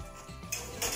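A utensil clinks and scrapes against a bowl while cassava cake batter is stirred. Two sharp metallic contacts come close together, alone and quite near.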